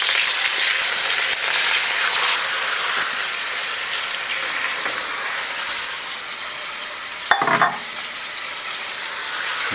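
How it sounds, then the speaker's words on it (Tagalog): Chicken sizzles and crackles steadily in a hot frying pan, with a brief clatter of a utensil near the end. "isunod naman natin prito ay yung manok. Prito muna natin"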